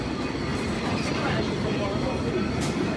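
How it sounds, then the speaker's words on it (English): A steady rumble of an open-air Lisbon tram arriving nearby, continuous and moderately loud, with faint higher rattles. "Here comes our tram."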